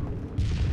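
A grenade detonates in an Xbox shooter game, a single dull low boom landing partway through under a steady mix of game noise.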